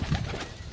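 Domestic pigeons coo on a rooftop loft, a low, soft, continuous murmur that stays steady and fairly close throughout the short stretch.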